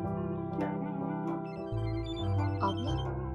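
Telephone ringing with a steady electronic ringtone pattern, moderately loud and near, its tone shifting partway through, with no voices over it.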